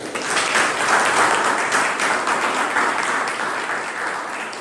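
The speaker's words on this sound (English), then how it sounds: "If you agree with me, can we please clap?" A Toastmasters club audience at a meeting claps steadily together, a dense, even wash of applause that holds for several seconds and fades slightly near the end, with no voices over it.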